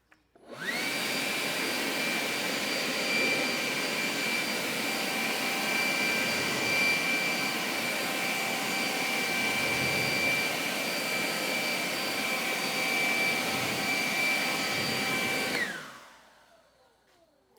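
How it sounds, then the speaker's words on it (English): A forced-air blower dries sealant-coated car paint with a loud, steady high-pitched roar that starts abruptly, holds for about fifteen seconds and then winds down and fades out. "How quick can we dry it with the forced air?"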